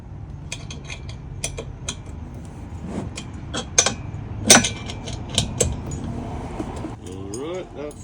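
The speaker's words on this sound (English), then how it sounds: "Then you're going to use the Allen wrench on the top and a wrench on the bottom to hold it" An Allen wrench and a wrench tighten the bolts on a POFENZE door storage rack for a Jeep Wrangler JK, JL or JT, giving close, scattered metallic clicks and clinks with irregular pauses while someone talks.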